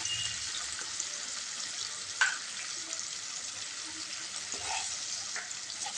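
Ginger and green chillies fry over a low gas flame in a pan, a soft continuous sizzle with a few light clinks and stirring sounds; no one speaks.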